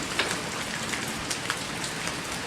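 Steady rain falling on a surface, a constant soft hiss with scattered brighter drop impacts, close and even throughout, with no voices.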